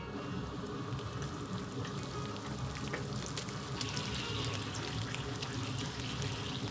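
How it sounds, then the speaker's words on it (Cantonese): Pig intestines deep-frying in batches in an iron wok of oil at about 160 degrees, with a steady, dense crackling sizzle that holds evenly throughout, close up and with no talking. "咁我就用鐵鑊炸啦，我就分批炸"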